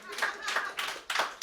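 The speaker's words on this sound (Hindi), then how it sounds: "एक बार फिर से जोरदार ताली बजा दीजिए मेरे लिए" Audience at a standup comedy show clapping in short bursts, about four waves of applause, close and lively, with a voice faintly underneath.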